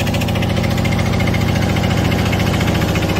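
A loud river boat motor on the Tocantins River runs steadily up close, making a harsh, even chugging like a tractor engine that never lets up.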